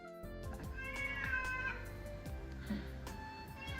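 A hungry cat meows loudly in a drawn-out, wavering cry, heard close with a faint background bed behind it.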